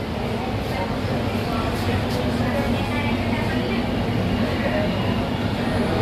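Ahmedabad metro train running between Paladi and Old High Court, a steady even rumble and rolling hum inside the car, unbroken throughout.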